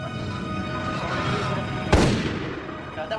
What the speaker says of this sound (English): God, that was a gunshot.